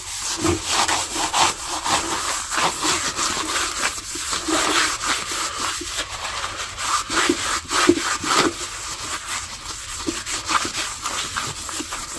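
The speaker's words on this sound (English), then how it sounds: "I'm gonna sand it a little more, and then we'll work on this side" A vintage saw blade is sanded by hand, a steady back-and-forth rasping scrub that repeats at close range without pause for the whole stretch.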